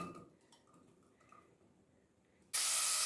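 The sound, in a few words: onion sizzling in hot oil in a pan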